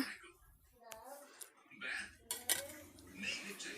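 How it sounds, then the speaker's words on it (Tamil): Cooked rice drained from a pot in a home kitchen, with metal lid and pot clinks, scraping and watery pouring that come and go in short bursts under quiet background sound. "ரைஸ் செஞ்சு இப்போ வடிச்சிக்கலாம்"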